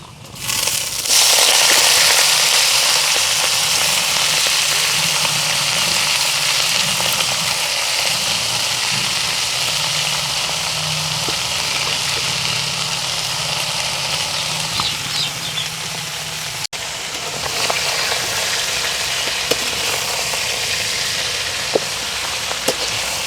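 Washed ponnaganti leaves dropped into hot tempering oil: a loud, sudden burst of crackling and hissing that settles into a steady, dense sizzle, with a brief renewed spurt near the end.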